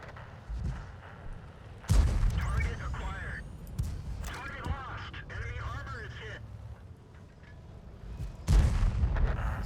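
Tank cannon fire in the World of Tanks video game, with sharp booming shots at the start and near the end, plus other battle noises and engine rumble between them, fairly loud.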